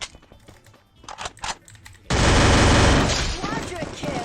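Gunfire from the Free Fire video game, a few scattered shots at first, then a loud, sustained burst of rapid automatic fire that fills the second half, with a voice talking over the early part.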